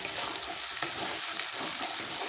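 Chicken stomach and liver sizzling as they go into a well-fried spice paste in a pan, a steady loud frying hiss with light stirring scrapes throughout.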